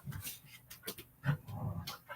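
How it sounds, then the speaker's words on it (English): Dogs fighting in a home: faint, scattered growls, snorts, yelps and scuffling in brief bursts, quiet and somewhat distant, no talking. "If you want to sit here and listen to my dogs fight, you might as well chat with us."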